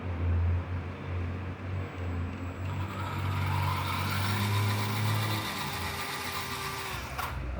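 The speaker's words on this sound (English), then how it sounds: "this is how it sounds when it moves in the rear direction" An SG Pinecone Forest 2402 RC vehicle's motor and central gearbox running in reverse, a steady close whining hum with a faint gear noise, ending in a brief knock, no talking.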